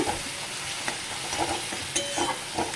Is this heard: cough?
no